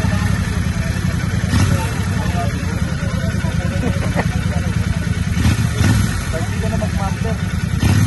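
A 650 motorcycle engine runs with a steady low throbbing rumble and slight throttle variation, close and continuous, while people talk over it.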